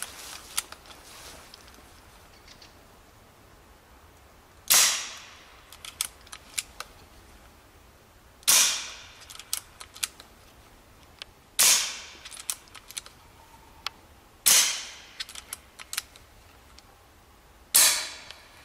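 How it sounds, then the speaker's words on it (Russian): A PCP air rifle, from a lineup including Egerь, FX and Brocock models, fires at a 100-metre target, giving five sharp, loud shots spaced a few seconds apart with brief clicks and handling noises between them. "Да, мы стреляем из винтовок на 100 метров"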